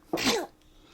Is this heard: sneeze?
yes